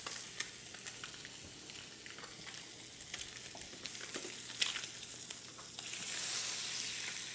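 A halibut fillet pan-seared in butter gives a soft, steady sizzle and crackle in the pan, quiet and close, with occasional brief pops and a slightly louder hiss near the end.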